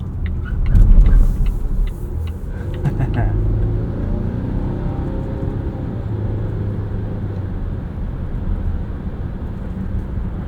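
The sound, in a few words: 2023 Volvo XC60 Recharge T8 plug-in hybrid driving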